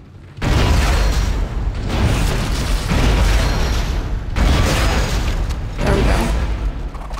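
Loud repeated explosions from bombing in Dead Space, several heavy booms in succession with roaring, crackling tails filling the space, no talk.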